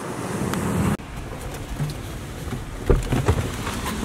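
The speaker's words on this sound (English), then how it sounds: "It looks like the waves are firing off a little bit." Ocean surf breaking at a jetty, a steady broadband wash with a few louder surges toward the end, mixed with wind buffeting the microphone; no talking.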